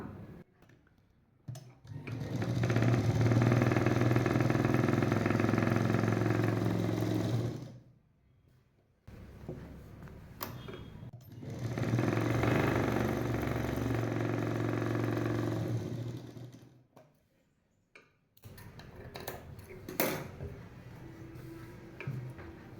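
A domestic sewing machine stitches along the front of a princess-cut blouse, running in two long steady bursts of several seconds each with short pauses between, fairly close and loud with no talking.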